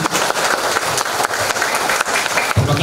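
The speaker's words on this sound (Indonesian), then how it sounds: "Tepuk tangan dulu untuk Ibu Yuli." A ceremony audience at a university scholarship savings-book handover applauds together, a dense, loud, continuous wash of clapping for a few seconds.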